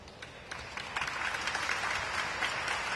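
Crowd applause at a public hearing builds from scattered claps into a dense, sustained wash of clapping, heard from some distance.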